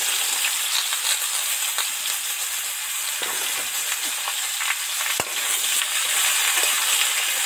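Ash gourd and potato pieces fry in hot oil in a pan, giving a steady, close sizzle with scattered crackles and a few sharp clicks, with no voices present.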